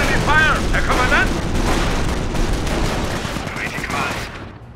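Enemy gunfire crackles in the Operation Market Garden video game near Oosterbeek, a dense continuous barrage of shots and blasts with a short voice heard near the start.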